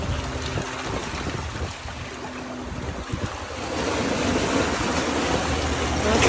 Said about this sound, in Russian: Вон еще волна идет.